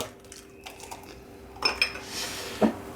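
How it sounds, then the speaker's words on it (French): An egg cracked into a bowl holding triangle spreadable cheese while making potato and tuna fritters, a few sharp clinks and taps against the bowl following a quiet stretch, close and brief. "Je vais y casser un œuf."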